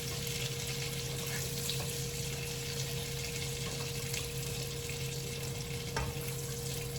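Salmon and shrimp going into a hot pan for zucchini pasta, giving a steady, close frying sizzle with a constant hiss throughout, a low hum beneath and a couple of small clinks near the end.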